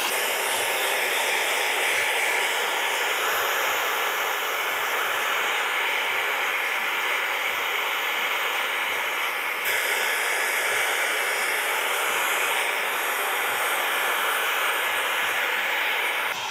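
A Dyson hair dryer runs steadily on medium heat and speed setting 2 during a barber haircut, a continuous close airy whoosh and hiss holding even for the whole stretch with no talking.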